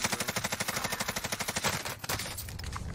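Rapid automatic gunfire in the Warzone (Modern Warfare) video game, a long burst of evenly spaced shots that breaks off, then gives way to scattered further bursts, fairly close and clear.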